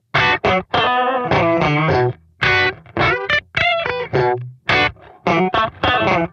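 Electric guitar with distortion played through a TC Electronic Mimiq Mini doubler pedal, loud choppy chords and short riffs with thick harmonic layering, close and alone with brief gaps between phrases.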